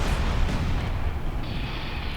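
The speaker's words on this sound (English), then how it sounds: "Explosions happening." Explosions in the Everspace space combat game, a dense, continuous low rumble of blasts and booms with no talking over it.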